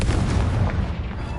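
Confringo explosion spell in a Harry Potter video game: a close, heavy boom with a rumbling low-end tail fading over a second and a half, heard alone.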